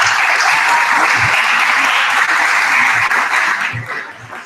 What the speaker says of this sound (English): I just want to give a round of applause to all our panelists that came out tonight